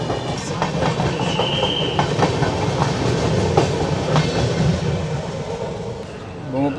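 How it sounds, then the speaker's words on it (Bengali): The Amaravati Express rolls out of Brahmapur with a loud, steady rumble and a rhythmic clickety-clack of wheels over rail joints, heard from inside the moving train. "ব্রহ্মপুর থেকে ছাড়লো আমাদের ট্রেন"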